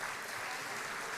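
A crowd at the HIPMI Jaya golden anniversary celebration gives steady, fairly faint applause, a continuous wash of clapping with no break.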